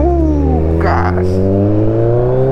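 A larger motorcycle rides along a road in Bali, its engine a steady loud drone with a brief throttle change, while a voice speaks over it.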